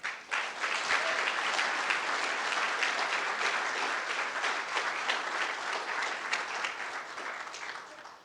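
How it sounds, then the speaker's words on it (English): Sustained applause from an audience at a senior design showcase, a dense steady clatter of many hands lasting several seconds before tapering off, with no talking over it. "just give them a round of applause, please."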